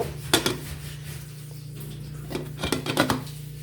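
Cooking pots holding rice and a cauliflower and small-fish curry are lifted off a stove with a few sharp metallic clanks and clatters, close and fairly quiet, over a low steady hum and no talking.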